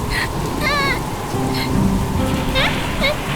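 Steady rain hisses loudly throughout, with a few brief voices and chirping tones rising above the downpour.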